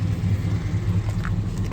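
A Mazda fitted with a swapped LT1 V8 engine pulling away on a first test drive, a steady low engine rumble with a faint hum close by, no talk.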